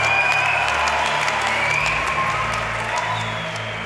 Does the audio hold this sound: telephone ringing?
no